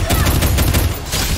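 Dense rapid gunfire from a Free Fire match, a loud continuous burst of shots throughout with brief breaks.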